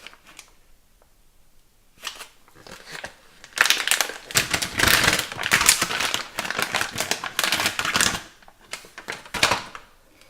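Plastic wrapping around a Brother laser printer toner cartridge is torn open, a burst of loud, close crinkling and ripping after a quiet start, continuing in bursts for several seconds.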